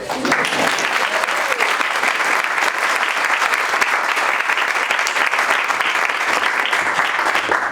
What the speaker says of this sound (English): Or maybe we shouldn't hold our applause.